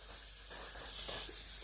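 Setting spray hisses steadily onto hair curled with clothes pegs, a continuous close airy spray lasting the whole short moment.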